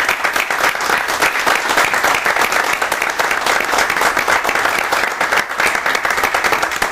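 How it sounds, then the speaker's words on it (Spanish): An audience at a talk on climate change in a lecture hall bursts into sustained, loud applause, with dense continuous clapping filling the room from start to finish. "Pues muchas gracias, Arturo, le damos un aplauso."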